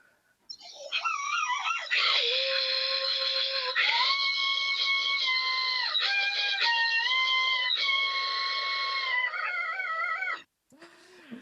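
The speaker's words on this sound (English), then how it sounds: "I guess the seagull example is more clear" A seagull-trained DDSP timbre transfer model renders a melody as sustained, wailing gull-like tones that step between pitches like a sung line. The tones run loud and continuous for about ten seconds, then cut off, and no one speaks.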